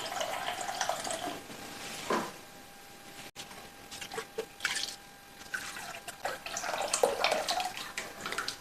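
Water pours and splashes into a pan for cooking rice, a continuous gurgling stream with drips and small stirring sounds, no voices.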